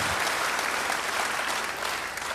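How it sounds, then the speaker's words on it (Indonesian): Church congregation clapping together, a fairly even wash of applause held for a couple of seconds, moderately distant and without voices over it. "Beri tepuk tangan yang baik buat dia."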